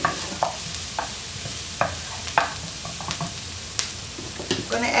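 One small shallot sautéing in a pan, a continuous soft sizzle broken by intermittent stirring clicks and scrapes, with a louder clatter near the end.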